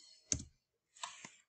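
Computer mouse clicking, a single crisp click followed a moment later by a quick pair of clicks, close and quiet with no voices.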